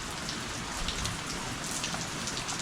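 Steady rain falls throughout during a motorcycle tour in New Zealand, a dense, even hiss of drops hitting surfaces close by with no voices.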